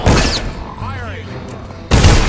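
A guard fires a gun in the stealth game Dishonored: loud broadband bursts open and close the moment, with a quieter stretch between carrying a faint swept tone and low hum.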